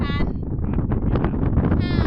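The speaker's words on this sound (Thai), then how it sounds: "โอ้ยลมแรง" Strong wind buffets the microphone outdoors in a continuous low rumble, with a voice speaking briefly at the start and end.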